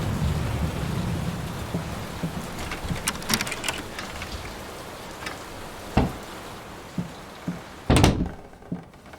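Steady rain pours during a thunderstorm in the horror video game Layers of Fear, a dense hiss overlaid with scattered dull thuds and rumbles, including a sharper burst of impacts near the end.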